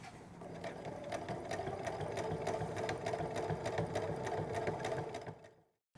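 A sewing machine stitches a skirt lining with elastic, running steadily and close for about five and a half seconds before stopping abruptly.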